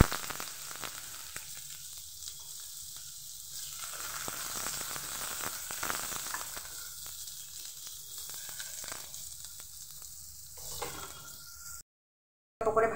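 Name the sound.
frying chopped onion, carrot and capsicum in oil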